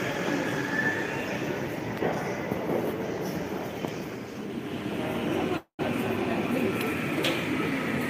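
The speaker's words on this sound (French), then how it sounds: "Là, c'est la rame 103." A Lille metro train, trainset 103, rumbles past with a steady close roar of wheels on track and a brief dropout partway through, with some faint speech and background noise.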